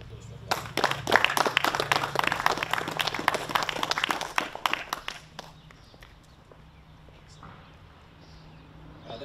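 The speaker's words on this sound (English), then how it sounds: "You can have a quick round of applause for that." A short burst of audience applause, dense clapping that fades out after about five seconds, leaving quiet room tone.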